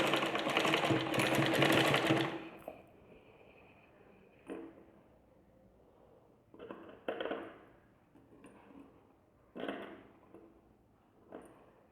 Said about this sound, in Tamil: நம்ம ஸ்டிச் பண்ணுறது அந்த கிராஸ் பீஸ் மேலே விழுகிற மாதிரியே நீங்கள் ஸ்டிச் பண்ணி விட்டுருங்க